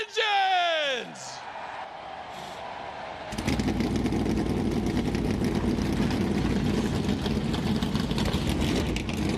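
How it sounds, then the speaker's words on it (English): NASCAR Cup Series stock car engines at Daytona fire up together at once after a short, quieter lead-in, then hold a loud, dense, steady roar that fills the rest of the moment. "As the engines come to life for the first time tonight here at Daytona"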